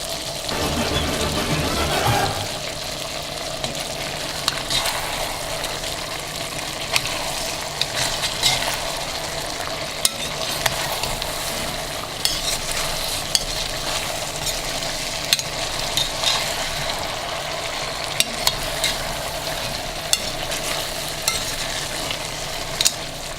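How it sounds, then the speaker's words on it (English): Carrots fry with onion and peppers for Uzbek plov, a dense steady sizzle in the pot broken by frequent sharp clicks and scrapes of stirring, with a louder burst near the start. "After onion and peppers have been simmering there for around 10 minutes, we'll throw in carrots."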